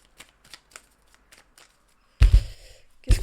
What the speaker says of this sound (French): Je vais tirer bien une carte sur l'accident ici.